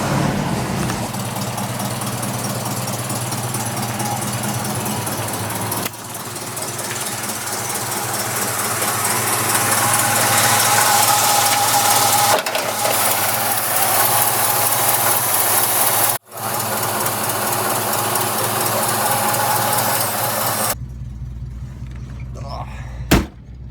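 A car engine runs after three and a half months in a garage, a loud, steady idle with a rough mechanical chatter that swells slightly midway, then drops to a quieter hum near the end.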